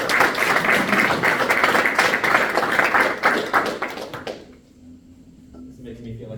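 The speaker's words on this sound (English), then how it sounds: "Can we get a round of applause before we go on to questions?" A meetup audience at No Code Scotland gives a round of applause, dense steady clapping for about four seconds that quickly dies away into a quiet room with faint shuffling.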